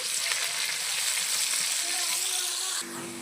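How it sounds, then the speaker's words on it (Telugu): Onions frying in oil for a chicken fry, with a dense, close, steady sizzle and a few stirring sounds, then a slight drop in level near the end. "ఈ ఉల్లిపాయలను కూడా చక్కగా ఫ్రై చేసేసుకోవాలి"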